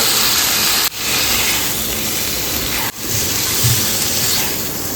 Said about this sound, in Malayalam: ഇനി നമുക്ക് ഇതിലേക്ക് മാരിനേറ്റ് ചെയ്ത് വെച്ചിട്ടുള്ള ഉപ്പും മഞ്ഞളും ഇട്ട് മാരിനേറ്റ് ചെയ്ത് വെച്ചിട്ടുള്ള ചെമ്മീന് ഇട്ട് കൊടുക്കാം